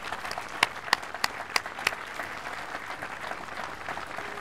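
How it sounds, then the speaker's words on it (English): A handful of scattered, sharp handclaps rise briefly out of a quiet room, a thin round of applause for family members at a military change-of-command ceremony in Central Texas. "Can we give all the family members that are here a round of applause?"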